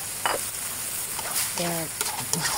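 Fish and winter vegetable curry in a pan on the stove, a short stretch of sizzling and stirring with brief utensil scrapes, close and fairly loud, with a voice briefly murmuring.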